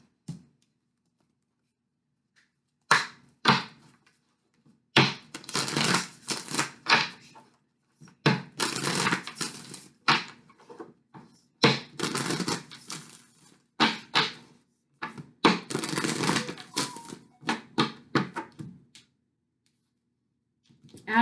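Tarot love cards shuffled by hand in repeated brisk bursts of papery riffling and flapping, close and fairly loud, separated by short pauses, with no talking.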